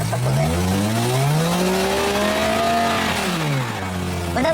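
A car's engine revs up under throttle, the pitch climbing and holding, then dropping back before rising again at the end, loud and close with no talking.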